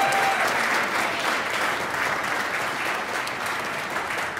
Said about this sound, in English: can we give these folks a huge round of applause?